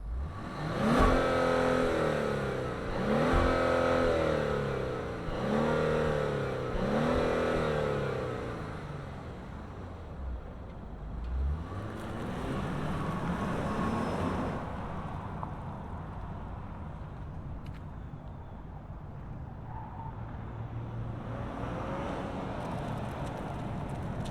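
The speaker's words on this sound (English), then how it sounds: "let's fire it up and hear what the GV80 makes noise-wise" A 2025 Genesis GV80 Prestige with a 3.5-litre twin-turbo V6 starting up and revving several times in quick bursts, then settling into a quieter, steady idle heard close by with no talking.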